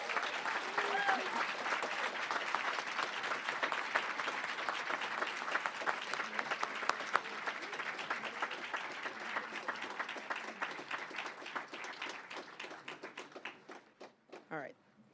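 An audience at an awards event applauds its honorees with sustained, dense clapping that thins out into scattered claps near the end.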